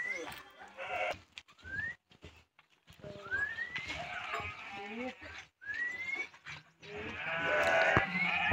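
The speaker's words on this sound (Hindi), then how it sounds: "दस भेड़े चली गई अंदर" A flock of sheep bleats repeatedly at close range as the animals are herded inside a pen, with rising and falling calls overlapping and a person's voice nearby.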